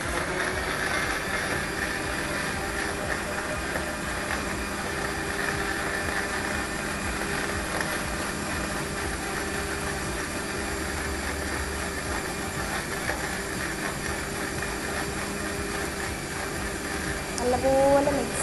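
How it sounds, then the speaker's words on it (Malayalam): A kitchen mixer grinder blends juice, its motor whirring in a steady, loud drone for the whole stretch, with a slight surge right at the end. "മിക്സിയിലിട്ട് അടിക്കാൻ പോവാം"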